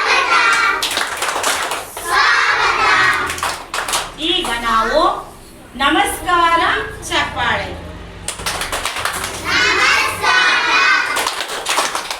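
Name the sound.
children clapping hands in welcome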